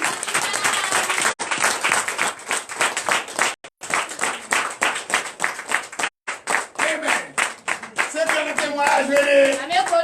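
A church congregation at a testimony service in Comè, Benin, claps and applauds for Jesus, with rhythmic, dense clapping throughout and a voice speaking over it toward the end.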